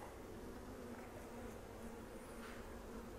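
Honeybees buzzing around a backyard hive, a faint, continuous droning hum with soft overlapping wingbeats at a moderate distance and no talk.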